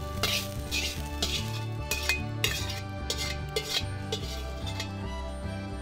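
Metal utensils scrape and clink against a pan while onions and glass noodles sizzle and get tossed, a steady close-up rhythm of stir-frying with no talking.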